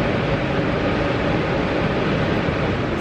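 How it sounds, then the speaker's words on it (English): Steady rumble and roar inside a moving train carriage, heard continuously and fairly loud with no talking. "here we go again on the train."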